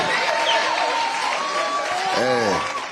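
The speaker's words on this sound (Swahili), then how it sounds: "Makofi, makofi." Applause from an audience at a meeting with people living with disabilities, a dense steady patter of clapping running the whole stretch, with a voice briefly audible over it near the end.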